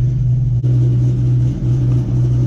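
A Ford Mustang with its stock exhaust idles inside a closed garage, giving a steady, loud, low engine drone with a constant hum that barely changes across the stretch.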